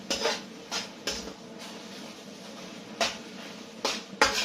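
Beef and onion stir-fry being stirred around a pan, with repeated scraping clinks of a utensil against the metal at irregular intervals over a soft background sizzle.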